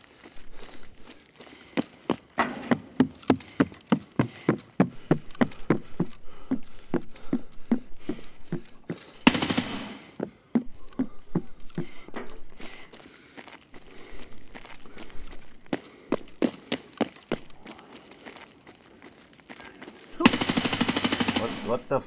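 Automatic gunfire in Escape from Tarkov, rapid bursts of loud, sharp shots in long rhythmic strings, broken by brief pauses and two harsh noisy blasts, carried on through most of the stretch.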